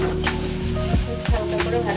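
A pan of oats khichuri ingredients sizzles steadily while a spoon scrapes and stirs two or three times, close up and fairly loud, with no speech over it.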